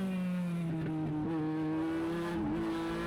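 Race car engine droning steadily at high revs down the straightaway in a stock car racing video game, a continuous near tone with slight pitch dips, no talking.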